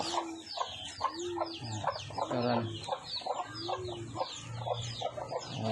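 Chickens cluck repeatedly in short, close bursts, with a person speaking briefly among them.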